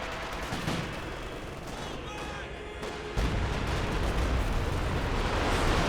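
Artillery barrage in Company of Heroes 2 from a B4 howitzer, a dense rumble of explosions and gunfire that swells louder partway through, continuous and booming under light battle noise.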